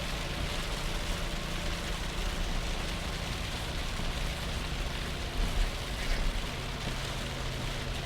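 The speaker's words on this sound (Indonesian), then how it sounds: "Wah, hujannya cukup deras." Heavy morning rain pouring onto the Pantura road between Indramayu and Cirebon, a constant dense hiss with faint vehicle rumble underneath, steady throughout.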